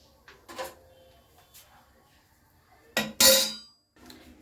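A kadai clanks down onto a gas stove for cooking dal, a loud metallic knock near the end after a few softer kitchen clatters and faint background noise.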